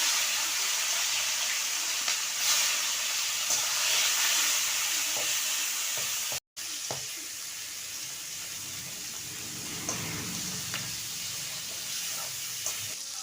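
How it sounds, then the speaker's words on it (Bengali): Prawns frying in hot mustard oil in a wok, giving a steady broad sizzle and hiss that runs throughout with no one talking, broken only by a brief dropout midway. "চিংড়ি মাছটা এবার তেলের পর দিয়ে ভেজে নেব।"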